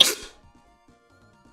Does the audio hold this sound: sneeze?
yes